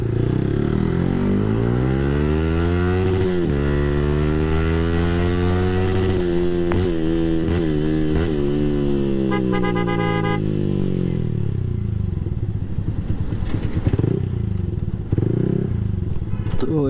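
A Yamaha R15 V3 motorcycle rides into a workshop, its engine note rising and falling in steady harmonic sweeps before settling into a lower idle with clattering workshop noise toward the end.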